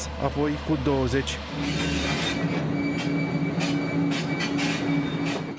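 A Romanian passenger train pulls away slowly over a switch on a single-track line, wheels squealing and clacking under steady rumbling, with a brief spoken voice at the start.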